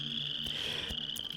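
Frogs in a horror puzzle game, a steady swampy trilling drone with faint croaks and insect-like chirping, continuous and low in level.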